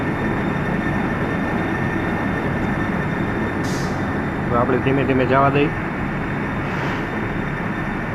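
A train rumbles steadily past in the Bus Simulator Indonesia video game with a continuous mechanical drone, a short tonal horn-like sound midway, and someone talking over it.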